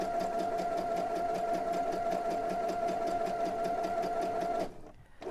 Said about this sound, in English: try not to sew too fast